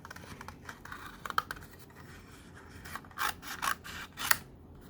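Scissors snip through cardstock while a paper rabbit is cut out, giving soft scratchy cuts with a few sharper clips near the end, close and quiet with no talking.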